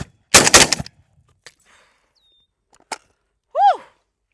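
Loud close shotgun blasts from a K-USA KS 12T, a quick burst of several shots in rapid succession followed by a single sharper crack and a short ringing tonal sweep after.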